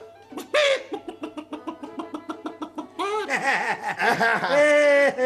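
A human voice mimics crowing roosters, first with a rapid run of short clucking bursts, then long, wavering cock-a-doodle calls, close and loud.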